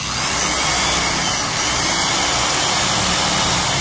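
Makita 110 angle grinder running steadily at speed, a loud, continuous high-pitched motor whine with a constant drone and no pauses or voices.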